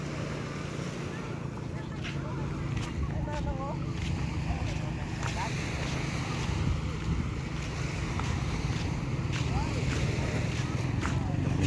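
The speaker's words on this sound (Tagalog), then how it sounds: "Yan ngayon ang kalagayan ng tabing dagat." Waves wash onto a crowded seashore with steady surf rumble and wind buffeting the microphone, while a few distant voices and faint calls rise over the continuous roar.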